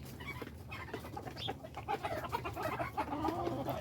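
Several Silkie chickens cluck and murmur close by in a busy, overlapping chorus, growing a little louder toward the end.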